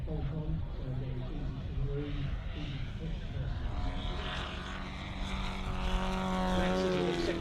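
A radio-controlled model aircraft flies at the Weston Park Model Air Show, its propeller a buzzing drone that rises and shifts in pitch. Someone talks throughout.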